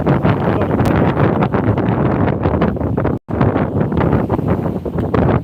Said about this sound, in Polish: Ale wiatr, zimno jest